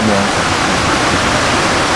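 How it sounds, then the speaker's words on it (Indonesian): Waterfall with two falls at a ritual bathing site, heard as a steady, dense roar of falling water that fills the whole moment with no breaks. "Jadi menuju ke air terjun, air terjunnya ada dua."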